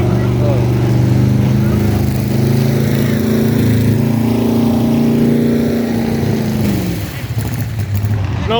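A nitro-fueled drag racing car engine at the Irwindale dragstrip runs with a loud, steady, harmonic rumble for about seven seconds before it drops off and fades near the end.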